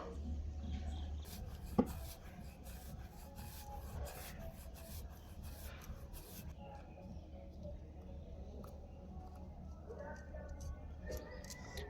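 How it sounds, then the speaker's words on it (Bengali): Rice flour dough for pitha is cut into small pieces, giving soft, repeated scraping and tapping strokes close by, with a voice talking over them. "প্রথমে আমি এরকম লেচি কেটে কেটে সবগুলো রেখে দেবো"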